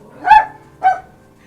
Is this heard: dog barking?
yes